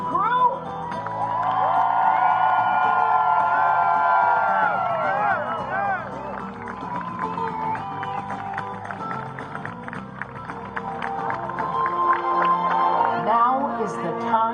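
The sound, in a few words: crowd cheering for the walk crew at closing ceremony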